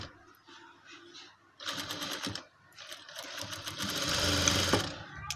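Sewing machine stitching a trouser side pocket: short bursts of rapid mechanical stitching, then a longer, louder steady run, close and clear with no talk.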